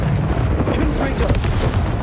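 A Confringo fire spell blasts in Hogwarts Legacy as a rumbling, broad boom with rolling low-end roar, mixed with a player's voice calling out during gameplay.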